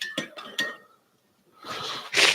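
Bar spoon clinking inside a glass while stirring a coffee and crème de cacao drink: three quick bright chinks, a short pause, then a swirling rustle and a final sharp rattle.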